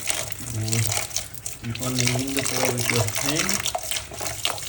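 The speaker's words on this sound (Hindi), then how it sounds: "पानी आ रहा है" Steady rush of running tap water pouring continuously, with a person talking over it throughout.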